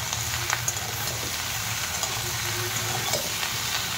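Whole cabbage sizzling as it hits a hot pan over a medium gas flame, a steady close crackling fry with faint stirring clinks and no talk.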